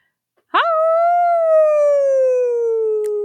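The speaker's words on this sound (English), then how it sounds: "Everyone likes a good howl at the moon." A single long, sustained howl rises briefly and then slowly falls, loud and close and alone with no other sound.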